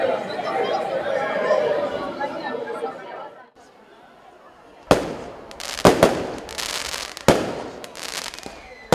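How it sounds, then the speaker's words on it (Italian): Fireworks burst in the night sky over the feast of San Marco at Tresnuraghes, several sharp booms and crackles arriving in irregular succession after a stretch of crowd chatter and a brief lull. "ecco nel cielo della notte apparire improvvisi i fuochi d'artificio"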